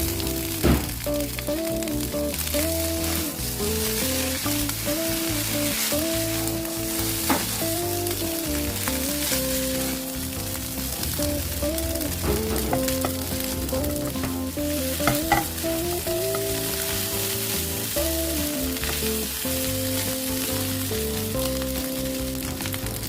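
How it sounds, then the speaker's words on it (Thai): Rice crackles and pops in a hot wok as fried rice with crispy pork is stir-fried, with continuous sizzling, occasional scraping, and music playing in the background. "จะได้ยินเสียงเม็ดข้าวดีดเด้งแบบนี้นะคะ"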